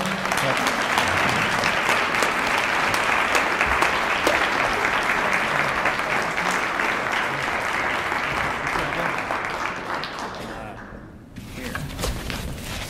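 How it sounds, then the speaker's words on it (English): An audience at an evening event gives a sustained round of dense, loud applause that holds steady, then tapers off and stops near the end before a brief return of room noise. "Give Grover another round of applause."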